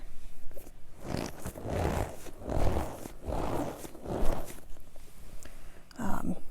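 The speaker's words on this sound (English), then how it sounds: "it almost sounds like when you're walking in snow, kind of that crunching sound" A squishy fidget toy is squeezed close to a microphone, making a series of soft, rhythmic crunches like footsteps in snow, about five bursts in a row against quiet background hiss.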